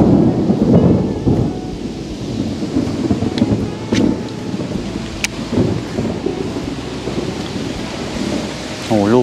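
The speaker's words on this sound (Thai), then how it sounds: "โอ้โหลูกนี้มาหนักมากครับฝน" Heavy rain pours down during a thunderstorm over a river where a kayak angler is out fishing, with thunder rumbling and wind; steady loud downpour throughout, a few sharper cracks, and a brief tone near the end.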